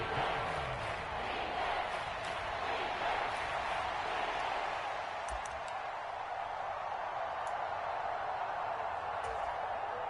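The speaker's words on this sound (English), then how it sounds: "The crowd getting into it as we come up on a big 3rd down" In a football video game, a stadium crowd noise rises as a continuous distant roar and murmur filling the whole stretch, steady and moderately loud with faint scattered shouts.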